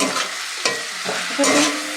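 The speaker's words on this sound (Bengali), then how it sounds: "এই যে দেখছো পেঁয়াজটা অনেকটাই ভাজা হয়ে এসছে" Onions sizzle loudly in a pan nearby as they are stirred, with several short scraping strokes breaking over a continuous frying hiss and no talking.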